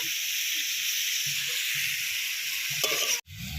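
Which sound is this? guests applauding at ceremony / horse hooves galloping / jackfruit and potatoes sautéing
jackfruit and potatoes sautéing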